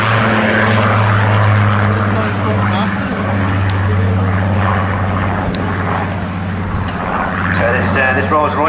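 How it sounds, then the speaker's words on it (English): Supermarine Spitfire Mark 19, a Rolls-Royce-engined unarmed high-altitude reconnaissance aircraft, flying at an air show with a steady loud engine drone throughout, while a commentator talks over it. "This is Papa Sierra 853, and is an unarmed, high-altitude reconnaissance aircraft"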